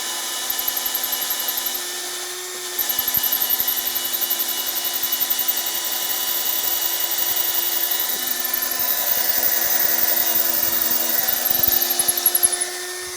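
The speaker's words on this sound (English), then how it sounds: "we're going all the way through the wood." A power drill bores all the way through the wooden frame of a Studio Reformer during a tower retrofit kit install, a continuous whining drone with a brief pause early on, then steady grinding to the end, close and loud.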